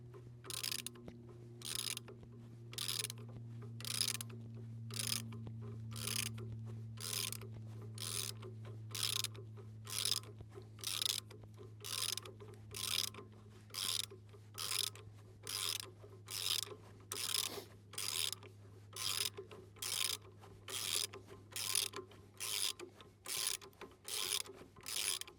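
A broken stud is backed out of a Power Trac 1850 with a quiet rhythmic ratchet, about two clicks every second for the whole stretch, over a low steady hum.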